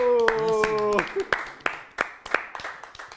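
Scattered hand claps ring out after a short sung or spoken phrase, sparse and uneven, like a small group clapping briefly.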